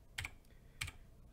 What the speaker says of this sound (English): I'm typing closed right now